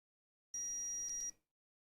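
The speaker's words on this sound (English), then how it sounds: "the reason that I make it beep in between is so I know that I didn't get too much rosin on the probes" A multimeter gives a single short, steady continuity beep while its probes test the solder on an N64 chip, clean and isolated in otherwise silent surroundings.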